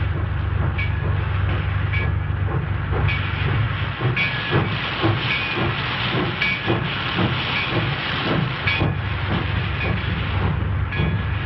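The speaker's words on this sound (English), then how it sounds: "See that train down there?" A steam train hisses in a railroad yard, a loud continuous hiss and rumble with faint clanking and rhythmic chuffing throughout, heard alone without talk.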